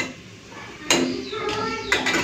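Crispy fried lentil fritters made from masoor dal, lifted out of the pan with a metal utensil, giving two sharp clattering clicks over a quiet background.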